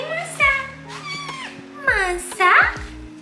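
A hungry cat meows repeatedly and impatiently just before feeding, with several drawn-out, rising and falling cries close by, the last ones loudest, mixed with a voice talking in the background.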